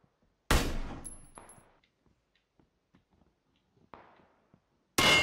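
Gunfire in PUBG on the Miramar map: a sharp, loud shot decays away, a few faint ticks follow, a smaller crack comes later and a final loud blast closes the clip.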